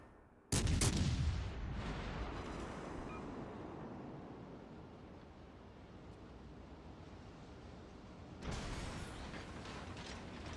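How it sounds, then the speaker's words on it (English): In World of Warships Legends, a naval turret blows apart with a sudden heavy boom, followed by a long rumbling decay and a second blast of gunfire near the end. "Main turret blown up."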